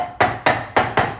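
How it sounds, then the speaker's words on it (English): Four evenly spaced knocks of a mallet tapping glued-up wood boards flat into place, each a sharp, close woody thud with a short decay, with no talking. "I'm tapping these into place so that they're nice and flat."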